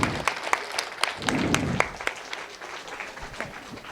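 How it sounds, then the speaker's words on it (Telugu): An audience claps loudly to welcome someone speaker onto the stage at a talk, a dense, sustained round of applause that tapers off slightly toward the end. "గట్టిగా చప్పట్లు"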